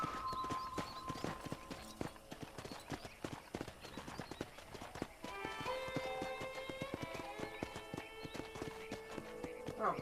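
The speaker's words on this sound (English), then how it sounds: "let's see if you can still ride a horse" Horse hooves galloping in a Wild West video game, a steady rapid clip-clop running throughout with a whinny early on, while game music rises in the background partway through.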